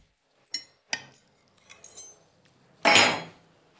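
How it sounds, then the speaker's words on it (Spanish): Stuffed chicken breast lifted from a pan and set onto a plate with cutlery: a few sharp metallic clinks and scrapes against dishware, then a louder clatter, close up and without talk. "Ahora voy a sacar aquí una pechuga de pollo y lo voy a traer al plato."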